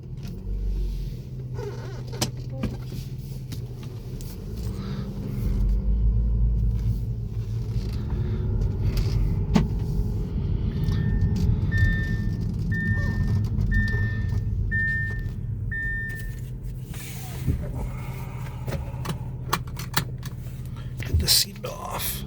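2015 Audi A6 Quattro TDI on the move: a low, steady cabin rumble of engine and road, with a soft repeating chime partway through and light clicks and handling noises nearby.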